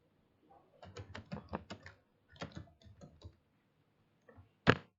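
Quick, close bursts of keystrokes clatter on a computer keyboard in two short runs, then a single sharp, loud click ends the sequence in a quiet room.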